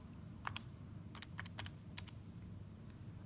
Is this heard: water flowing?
no